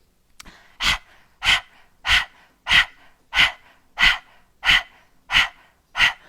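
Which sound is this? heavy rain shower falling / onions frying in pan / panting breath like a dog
panting breath like a dog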